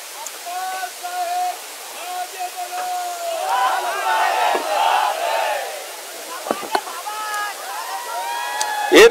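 Crowd at an outdoor election campaign rally for state assembly polls, a broad murmur of many voices swelling in the middle, with shouts and occasional sharp knocks, voices carrying over the noise throughout.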